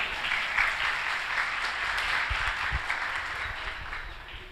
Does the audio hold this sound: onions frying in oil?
no